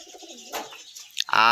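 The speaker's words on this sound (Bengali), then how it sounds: "সকাল সকাল কবুতরগুলি খাওয়া দাওয়া" Pigeons feed in the morning, a soft low coo near the start, then a brief pause before a sharper, louder call closes the short moment.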